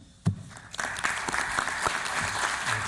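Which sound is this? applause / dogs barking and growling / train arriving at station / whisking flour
applause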